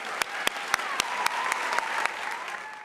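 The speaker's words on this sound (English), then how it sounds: "Let's give them all one more round of applause." At a closing ceremony an audience claps for five-year club members. The applause is loud and dense, with a few sharp individual claps standing out over steady crowd clapping.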